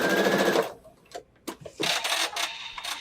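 Sewing machine stitching a quilt with a 1A presser foot: a close, rapid mechanical whirr that stops, gives a few isolated clicks, then runs again in a fast steady burst.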